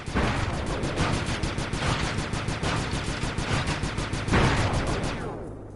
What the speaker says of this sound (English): I'm overriding the spotlight security gun.